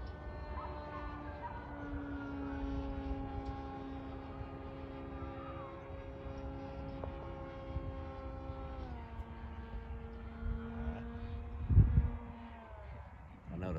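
An FMS 2000mm Beaver V2 RC plane rolls inverted, its propeller drone holding a steady buzzing tone that dips in pitch partway through, with a brief thump near the end.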